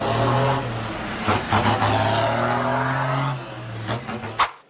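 A Mazda RX-8 fitted with a swapped 5.9-litre inline-six Cummins diesel engine roars loudly and steadily up close. Its pitch rises and shifts, and brief squeals and bursts come near the end.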